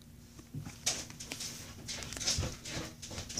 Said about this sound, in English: That is my dog.